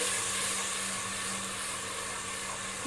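Green chili paste sautés on low heat in a pan for Dindigul-style mutton biryani, giving a steady, even sizzling hiss throughout with a constant low hum beneath.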